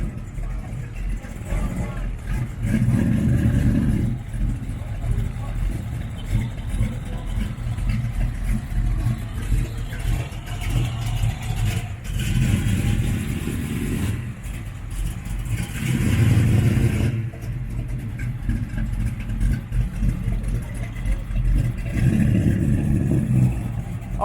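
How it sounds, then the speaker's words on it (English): A 1969 Ford Mustang Fastback with a 428 V8 idles with a deep steady rumble and occasional revs at a car cruise event, people talking nearby throughout. "Hear that rumble? That's 428."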